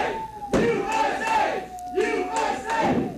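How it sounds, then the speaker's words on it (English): Fans at an independent wrestling show in Sparta, Wisconsin chant USA in a rhythmic, repeated group shout, the chant rising and falling in pulses over a steady crowd murmur. "Here the USA chant"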